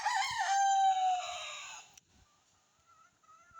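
An Egyptian Fayoumi farm chicken gives one loud, drawn-out crowing call up close. Quiet follows, with a few faint bird chirps in the background.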